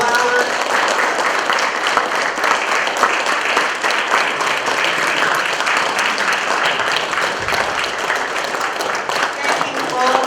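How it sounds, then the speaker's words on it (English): A breakfast audience claps at length for two award recipients, a loud, sustained round of applause with voices mixed in. "let's have one more round of applause for our two awardees, Timothy Donovan and Michael Wellauer"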